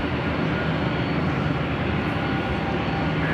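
A Lufthansa airliner takes off at Los Angeles International Airport, a loud, steady broadband jet engine roar holding evenly throughout without pauses or voices.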